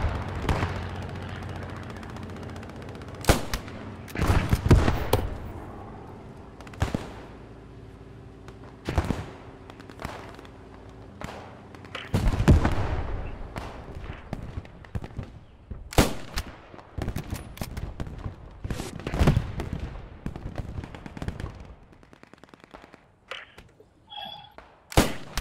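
Machine gun fire in the WWII shooter Post Scriptum, sounding as scattered sharp bursts and single cracks spread across the scene, some close and loud, others more distant, with a low engine-like drone underneath.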